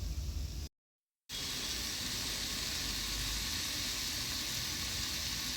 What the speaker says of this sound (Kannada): ಆಮೇಲೆ ಟೊಮೊಟೊ ಸ್ವಲ್ಪ ಫ್ರೈ ಮಾಡ್ಕೊಳ್ಳಿ